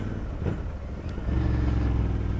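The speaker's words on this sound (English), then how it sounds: "Make that up with a really nice set of exhaust pipes, and you create a sound that is very, very, very pleasing to the ear" A Royal Enfield Continental GT 650 parallel twin idles through aftermarket exhaust pipes, then its engine note thickens into a deeper, louder drone partway through, heard close and without talk.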